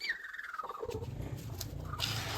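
Backyard chickens, including brooding hens, cluck and call steadily nearby, a busy run of short throaty calls over a low background hum.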